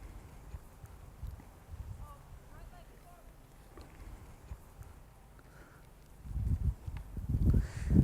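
A horse's hooves thud and shuffle slowly on soft ground as it backs up, a few irregular steps growing louder and heavier toward the end, with light wind in the background.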